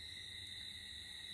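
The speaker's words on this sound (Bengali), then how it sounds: "নিশাচর পাখি ডাকছে, দূর থেকে ভেসে আসছে নিশাচর পাখির ডাক।" A nocturnal bird calls from far away in the dark countryside. Its hoots are faint and distant over a steady, shrill drone of insects, with no voices.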